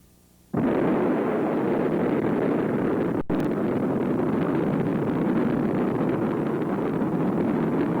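Atomic bomb known as the gadget detonating atop a tower at a test site: a sudden, loud blast that swells into a sustained, dense roar and keeps rumbling steadily without letup.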